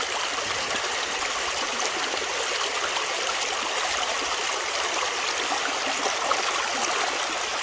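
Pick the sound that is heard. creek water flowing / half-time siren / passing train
creek water flowing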